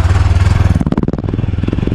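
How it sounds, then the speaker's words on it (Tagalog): A 2024 Yamaha NMAX 155 scooter idles with a steady, close putter. The engine then gets a short blip of throttle and settles back into an even, rhythmic running note. "Ganito ang tunog guys ng ating NMAX"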